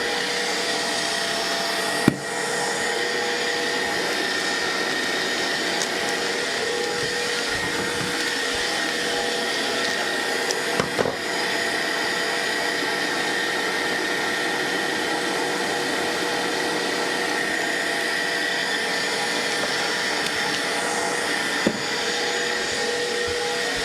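An electric kitchen mixer running at maximum speed while baking a Zuger Kirschtorte, a loud steady high-pitched motor whine held constant throughout, with a few faint knocks.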